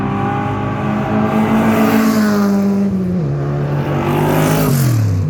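Race cars at the Nürburgring 24-hour race, an engine note sustained loudly and then dropping in pitch in steps as the cars shift gears or pull away, with no voices.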